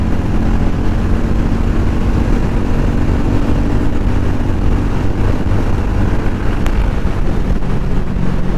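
A Hero Mavrick 440 motorcycle engine at speed in third gear on an open road, loud steady drone heavily mixed with wind rush against the microphone throughout.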